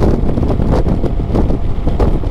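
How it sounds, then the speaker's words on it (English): Loud, steady wind buffets the microphone while riding a Suzuki Burgman 200 scooter on the highway, a dense continuous roar with gusty fluctuations and no talking. "The wind I'm getting is coming in from the side, but head on, I'm hardly getting any"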